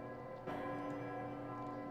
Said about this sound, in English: And then the bell of Urzum tolled.